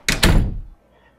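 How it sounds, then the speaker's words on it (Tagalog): A room door swings shut with a heavy, close thunk followed at once by a second knock-like impact, then quiet; no one speaks. "Sino nag-lock ng pinto?"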